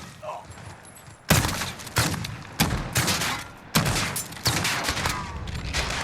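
DM slug rounds from a Remington TAC-14 shotgun in Call of Duty Modern Warfare, several loud, evenly spaced booming shots that each trail off into a ringing tail.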